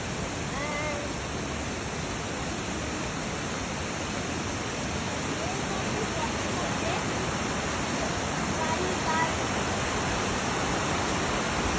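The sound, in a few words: forest waterfall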